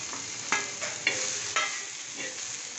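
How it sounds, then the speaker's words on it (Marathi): Sliced onions roasting on a hot griddle give a steady dry sizzle, broken by a few sharp scraping stirs that rise briefly above the crackle; no one talks. "दोन मोठे कांदे घेतले, ते लांब चिरून घेतले. याच तव्यावर आपण आता भाजून घेऊ."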